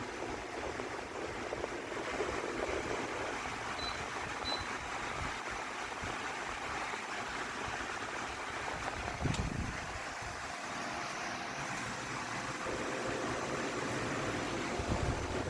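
A portable air conditioner running on its low fan setting gives a steady, fairly loud whooshing hum with a brief thump partway through, and no one speaks.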